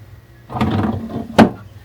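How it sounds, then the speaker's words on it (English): A cutlery drawer in a drinks nook slides open with a short rumbling glide and ends in a sharp knock as it stops, close and alone. "So here it is. A drawer."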